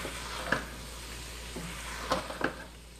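Aloo keema is stirred in a pan with crushed black pepper and green coriander after the flame is turned off. There is a faint, steady sizzle with a few soft scrapes from the stirring.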